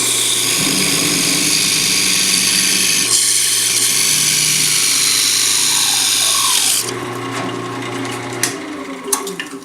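A walnut pen display stand being parted off on a wood lathe after sanding to 320 grit: a loud, steady motor whine with a cutting hiss that cuts out abruptly, leaving a quieter hum and a few sharp knocks.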